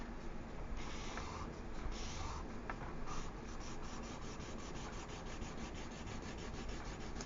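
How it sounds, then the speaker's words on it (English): A marker colors in a graph column on paper, making soft, faint scratchy strokes in quick back-and-forth rhythm, close by and alone without talk. "I'm going to use a marker so you can see it easier on my"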